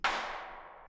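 A weird impact sample from Ramzoid's drum kit strikes once with a bright metallic clang, then rings and slowly decays over almost a second, heard alone.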